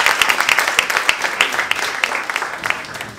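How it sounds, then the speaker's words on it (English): Audience applause greeting a guest speaker at a Collider Cafe talk in Vancouver, a dense steady patter of many hands clapping at close range for about three seconds. "Here she is. Round of applause."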